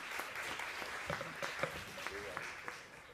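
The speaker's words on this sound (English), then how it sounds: "let's give a huge round of applause to you." Brief applause from a conference audience welcoming a speaker, moderately faint and dense with distinct claps, fading slightly at the end.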